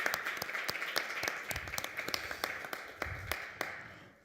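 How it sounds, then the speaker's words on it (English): Crowd applause fills a city council meeting chamber after a youth football championship is announced, a steady wash of clapping with sharp individual claps standing out, moderately loud and continuous throughout. "Everybody give that a round of applause."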